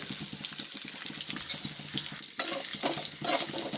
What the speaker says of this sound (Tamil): குளமிளகா பொடி மல்லிப்பொடி தனி மிளகா பொடி எல்லாத்தையுமே வந்து எண்ணெயில் வதக்கிட்டு